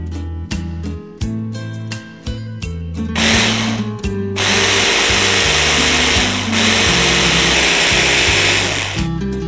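A kitchen blender whirs through berries and oats for a smoothie, starting with short rapid pulses, then running in long, loud, continuous bursts with clunking contents, close and alone with no talk.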